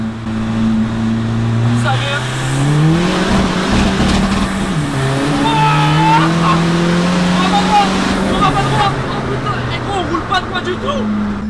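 A 600 hp Seat Ibiza TDI with nitro accelerates hard, its loud engine drone rising through the gears with audible shifts, while people talk and shout inside the car over the noise.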